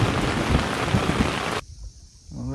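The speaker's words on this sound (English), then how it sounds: "it's pouring rain and thunder" Pouring rain hisses loudly and evenly at a backcountry lake camp with thunder rumbling low in it, then cuts off abruptly into quiet with a faint voice at the end.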